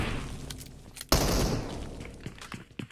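Gunfire in the mobile battle-royale game PUBG Mobile: a sharp, loud shot bursts out about a second in and trails into a rattling decay, with fainter cracks and thumps scattered before and after.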